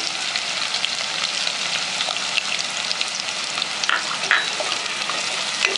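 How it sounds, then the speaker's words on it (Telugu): Onion pieces and garlic cloves fry in a pan for ponuganti kura dal fry, a continuous crackling sizzle close up with faint stirring scrapes and a few brighter pops near the end. "వెల్లుల్లి రెబ్బలు వేసిన తర్వాత ఉల్లిపాయ ముక్కలు వేసుకోవాలి. వేసుకొని బాగా ఫ్రై చేసుకోవాలి."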